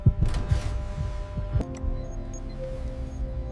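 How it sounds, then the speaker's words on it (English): Heartbeat sound effect inside a spacecraft cabin during a launch countdown, a low rhythmic thumping of several beats over a steady cabin hum, with no one speaking. "breath and heartbeat become the only moving forces inside the"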